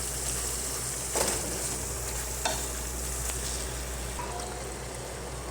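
Mutton frying in a pan with garam masala and lemon juice, giving a steady, dense sizzle with a few brief stirring scrapes, close and fairly loud with no talk.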